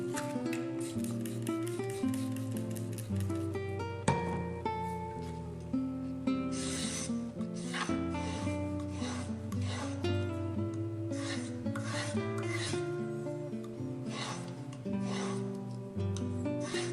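A chip carving knife scrapes rhythmically across an abrasive sheet in repeated rasping strokes, close and steady, over a faint background of music.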